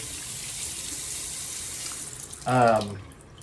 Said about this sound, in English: Let me just wash one hand off because I want to show you